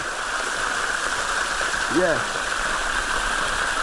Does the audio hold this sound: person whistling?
no